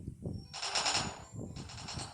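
Gunfire from a gun in a video game, two bursts of rapid automatic shots close and loud over a low rumbling background.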